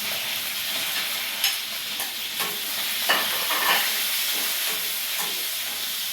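Onion dropped into hot oil for a Filipino sauté of sweet potato and moringa, a continuous hissing sizzle with occasional stirring scrapes.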